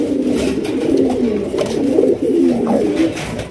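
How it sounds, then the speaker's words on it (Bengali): A pair of red Raj-Golla fancy pigeons coo close by, a continuous loud rolling coo with rising and falling pulses and no voices. "চমৎকার এক জোড়া রাজগোল্লা কবুতর, রেড কালারের গুলা"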